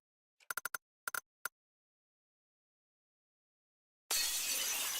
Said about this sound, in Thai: ใครทำกระจกแตก